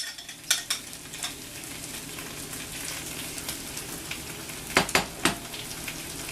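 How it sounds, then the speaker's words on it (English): Seared beef goes into a pan with cooking tomato paste for a pot roast, giving a steady sizzle and frying hiss with a few sharp stirring clatters, close and alone. "After a minute of cooking that tomato paste, we can now add our beef that we seared earlier."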